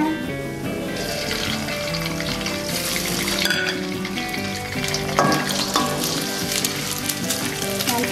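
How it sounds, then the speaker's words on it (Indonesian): Eggs frying and being stirred in a pan while cooking stir-fried mustard greens, a loud continuous sizzle with scraping and clinking of a utensil throughout, no voices. "Lalu kita masukkan telurnya."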